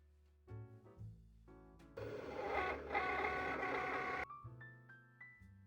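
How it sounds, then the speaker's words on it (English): A Cricut cutting machine on the Fabric Plus setting slices through a thick sticker sheet, giving a steady mechanical whir of about two seconds. Soft music plays before and after it. "You can then press the Make button on your Cricut machine."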